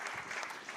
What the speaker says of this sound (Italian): Ancora un grande applauso